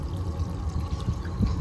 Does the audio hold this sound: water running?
yes